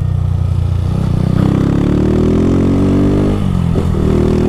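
Modified Honda Fan motorcycle engine with an aftermarket exhaust and filter, idling then revving up in a steady rising drone, close and loud, with a brief dip near the end before climbing again.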